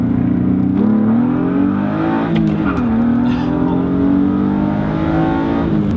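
A BMW M3 fitted with an M50 intake manifold accelerates hard, its inline-six engine note rising and falling through the revs, loud and steady from inside the car with tire noise underneath.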